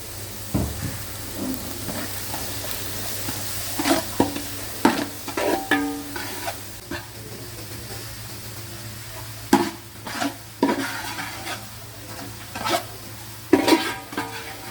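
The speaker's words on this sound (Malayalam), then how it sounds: "അതിനകത്ത് നമ്മൾ ചേർക്കാനുള്ള ഇഞ്ചി വെളുത്തുള്ളി പച്ചമുളക് കരിവേപ്പില എല്ലാം കൂടെ ഇട്ട് നമുക്ക് വഴിക്കാം" Onion, ginger, garlic, green chilli and curry leaves sautéing in a pan for a coconut-roasted country chicken curry, with a steady low sizzle broken by repeated sharp scrapes and clanks of a spoon stirring against the pan.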